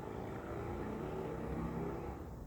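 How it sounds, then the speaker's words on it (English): Car with no exhaust revving, giving a steady, loud, rough engine roar that holds throughout without a break, with no talk. "That thing's got no exhaust."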